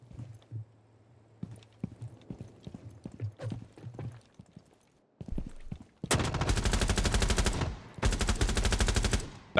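Rapid automatic gunfire in Rainbow Six Siege, two loud sustained bursts after scattered footsteps and small thuds, with a short pause between bursts.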